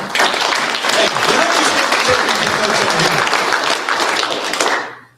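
Loud, full applause from an audience at the Drag & Drive Awards at PRI 2025, dense and sustained for several seconds before fading out at the end.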